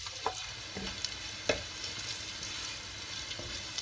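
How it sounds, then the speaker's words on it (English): Onions stirred and fried dark for chana pulao, a soft steady sizzle with a few faint spatula taps and scrapes, close but quiet with no talking. "We will keep stirring it like this so that the onions become dark from every side."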